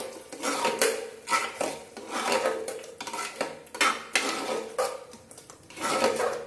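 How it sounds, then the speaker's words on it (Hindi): Spoon stirring rajma masala with frying tomatoes in a pan: loud, close scraping and clanking strokes repeating in an uneven rhythm, with no voices. "अब इसको भी एक बार अच्छे से चला दें।"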